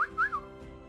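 Two short, bright whistled notes in quick succession, the second sliding up and back down, clear and fairly close.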